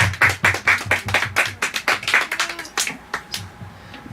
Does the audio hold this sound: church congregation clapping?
yes